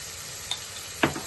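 Onions frying in a pan for mutton curry make a steady close sizzle, broken by a small clink and then a louder scrape of the spoon near the end, with no voices.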